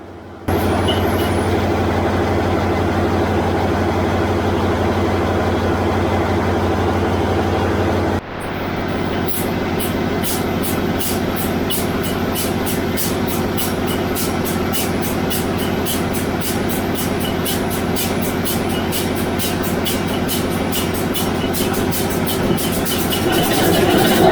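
A V12 Wärtsilä engine on its first start: a steady heavy diesel roar runs for several seconds, drops sharply, then settles into a loud, continuous run with a rapid rhythmic knocking layered on top, with no voices.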